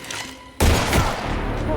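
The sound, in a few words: gunshot sound effect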